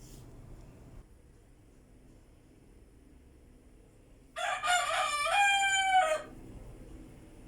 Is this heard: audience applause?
no